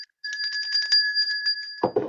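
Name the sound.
bell ring sound effect on a weather show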